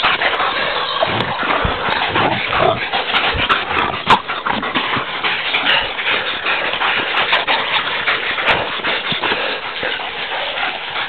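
Hunting dogs on a wild boar hunt move and shuffle close by, with scattered whimpers and small yips over a constant rough outdoor rumble, no clear barking.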